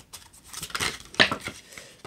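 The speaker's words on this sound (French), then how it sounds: "je coupe et je prends" A deck of tarot cards being cut and handled, with brief papery slides and snaps clustered in a couple of quick bursts, close and moderately loud, with no talking.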